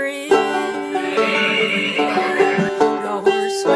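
A horse neighs in a steady, harmonic whinny lasting several seconds, loud and close, with the pitch wavering and a few pulsing accents and no speech over it.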